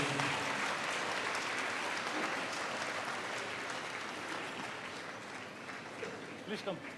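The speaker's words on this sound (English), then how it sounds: "I'd like to ask everybody to give another round of applause" A large crowd at a Buddhist ceremony honoring His Holiness gives a sustained round of applause, a dense, even wash of clapping heard at a distance, with a faint voice emerging as it fades.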